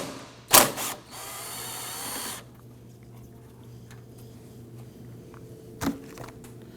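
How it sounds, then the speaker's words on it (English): A ratchet works loose the 10mm bolt holding the headlamp on a 2008-2011 Ford Focus, giving a sharp click and a brief buzzing run of pawl clicks, then a quiet stretch and one more click. "Go ahead and remove the third 10mm bolt holding the headlamp."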